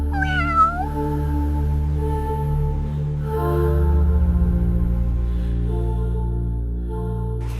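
A cat gives a short, rising meow near the start, fairly close and clear, over a steady droning musical background that continues to the end.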